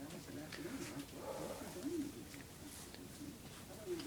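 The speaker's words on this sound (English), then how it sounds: "Did we get a chirp over here?" A pet bird in an art studio gives soft cooing, chirping calls, several brief notes spread across the moment, faint and close, alongside low background noise.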